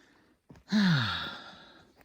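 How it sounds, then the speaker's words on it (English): A person breathes hard after running up and down a hillside: one long, heavy breath that swells and fades, heard close and alone without speech. "Sorry I'm breathing so hard."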